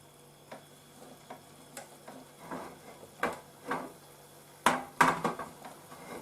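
Eggs sizzle and crackle steadily in a frying pan, with occasional scrapes and taps of stirring.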